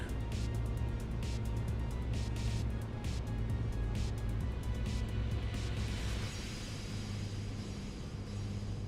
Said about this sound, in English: I guess they did that to be able to simulate these engine sounds better because they're real good.